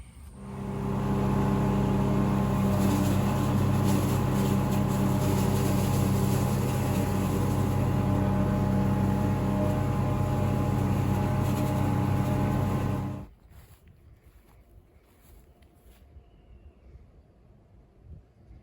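A Spartan RZ-C 42-inch zero-turn mower runs at a loud, steady drone while cutting thick, foot-tall weeds and clover, then the engine noise abruptly drops away to a quiet low rumble for the last few seconds.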